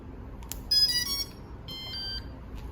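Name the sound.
drone electronics beep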